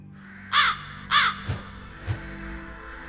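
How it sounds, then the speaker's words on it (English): Crows in the eerie setting of a fantasy audio drama give two loud, harsh caws close by, followed by two softer, lower croaks, each call distinct against a quiet background hum. "All the crows give me the creeps."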